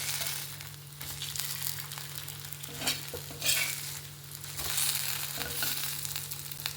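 Kallure fish coated in Bombay rava frying in oil, a soft continuous sizzle with occasional scraping and turning sounds, moderately quiet under a low steady hum.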